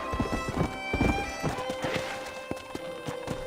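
A horse in Red Dead Redemption clip-clops at a brisk pace with quick rhythmic hoofbeats close by, and a whinny rising partway through.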